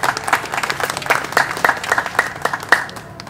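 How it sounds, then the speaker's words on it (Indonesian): Audience applauding at a painting exhibition opening at a national gallery, a dense burst of clapping from a nearby crowd that continues for several seconds. "Tepuk tangan dong tentunya."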